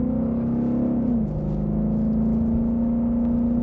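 A 2015 Mustang GT with a Roush axle-back quad-tip exhaust idles with a steady, loud low rumble, a brief dip in pitch as the throttle eases off, then a settled, throaty drone with no voices.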